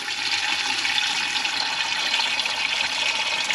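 Water draining out of a 1945 Caterpillar D4 dozer, a steady, loud rushing and splashing stream that holds constant throughout, close by, with no talking.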